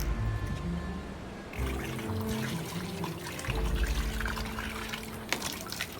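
Continuous running water pouring and trickling up close, steady throughout with slight surges, mixed with faint tonal hum and low background thumps, a brief sharp knock near the end.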